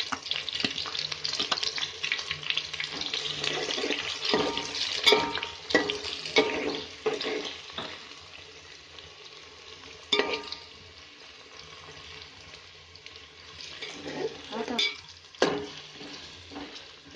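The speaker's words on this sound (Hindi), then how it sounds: "प्याज को बिल्कुल नरम करना है" Onions frying in oil with cumin, a bright close sizzle with frequent stirring scrapes and spoon knocks against the pan, rising and falling with each stir.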